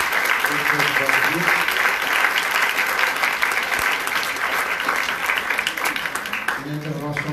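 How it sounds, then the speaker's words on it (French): Sustained audience applause fills the room after a talk at a parent-oriented presentation, dense and steady for several seconds, with a voice faintly audible in the background toward the end. "d'applaudissements."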